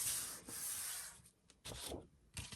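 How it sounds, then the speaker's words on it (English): Paper being folded and rubbed down to burnish creases for a composition book cover, giving soft scraping and rubbing strokes in bursts with short pauses between them, close and fairly quiet, no talking. "some folding and burnishing"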